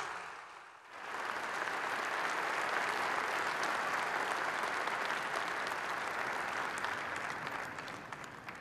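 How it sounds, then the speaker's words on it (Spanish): Audience at a governor's address bursts into strong applause after a brief pause, then a broad, sustained wash of clapping holds steady at a moderate distance before easing slightly at the end. "un aplauso fuerte para ellas y para ellos"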